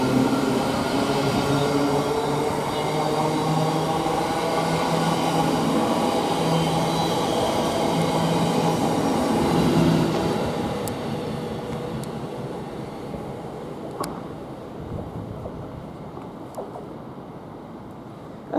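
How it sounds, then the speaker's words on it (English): Thameslink Class 700 electric multiple unit running through Luton Airport Parkway station, a steady loud rumble with rail noise for about ten seconds that then fades as the train moves away. "Now we've got the Thameslink."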